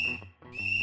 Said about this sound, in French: 3 coups de sifflet annoncent également un problème